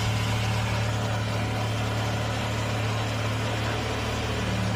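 Car engine idling right after a fuel pump replacement, a steady low rumble with an even hum that stays constant throughout, close and moderately loud, with no talk.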